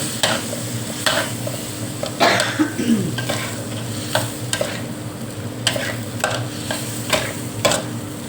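Shrimp stir-frying with bird's eye chilies in a hot pan, a steady sizzle broken by repeated sharp scrapes and clacks of a spatula stirring at close range, with no talk.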